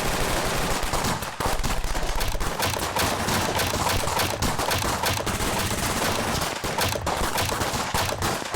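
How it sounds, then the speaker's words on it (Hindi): Rapid cartoon gunfire in a Mario-themed animation, loud sustained bursts of automatic shots crackling almost without pause, with a brief break near the start. "जरा गोली चलाकर दिखाऊं क्या?"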